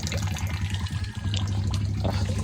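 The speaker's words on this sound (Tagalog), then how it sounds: "Tuloy-tuloy lang yung tubig na yun." Water pouring continuously from a pipe at a house in the mountains, a loud, steady gushing splash with a low rumbling undertone that carries on without a break, no one speaking.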